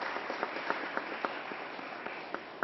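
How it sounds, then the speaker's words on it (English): A gathering at a bill signing on low-cost high-speed internet applauds Mr. Phillips, a soft, fairly distant patter of clapping from a modest crowd, with sharper individual claps standing out now and then. "Let's give Mr. Phillips a round of applause."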